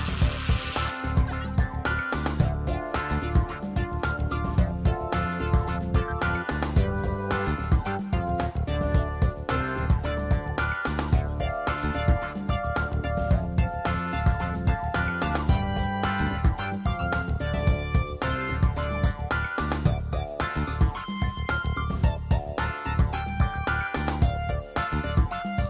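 A wet bit drills into petrified wood, agate or jasper stone for jewelry, a continuous loud grinding drill whine with rapid rhythmic chatter, close up and sustained throughout.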